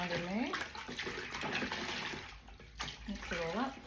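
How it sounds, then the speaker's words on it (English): TSP cleaning solution swished around in a container of water: continuous close sloshing and splashing with a running-water quality, while a voice speaks briefly at the start and again near the end. "So we're just going to swish that around in there."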